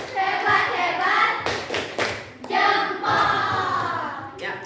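Children in a classroom perform a rhythmic chant-and-clap routine, voices calling out in unison punctuated by sharp group claps and thuds in a patterned beat.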